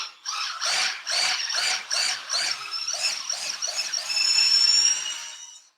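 A hand drill bores vertically into wood with a rhythmic series of about a dozen scraping, grinding bursts that settle into a steadier high whine before stopping; close and alone, with no talking.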